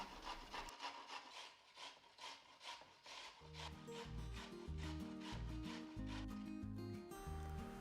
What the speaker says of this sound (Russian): И тоже трем на крупной терочке